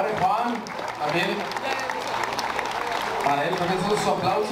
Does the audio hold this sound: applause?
yes